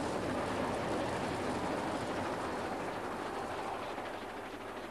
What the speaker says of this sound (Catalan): El ferrocarril.